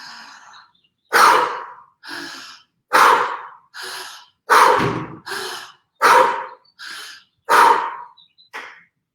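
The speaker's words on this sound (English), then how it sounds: "I want you to inhale up and exhale down." Deep, slow breaths taken during a somatic trauma-release exercise, ten or so loud, close inhales and exhales alternating in a steady rhythm with short pauses between, no talking.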